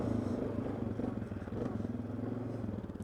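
Yamaha Kodiak 450 ATV fitted with a high-compression piston pulls away from a standstill, its low engine drone rising steadily with some rattling clatter, close and fairly loud throughout.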